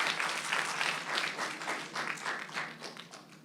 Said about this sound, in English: big round of applause for Urjo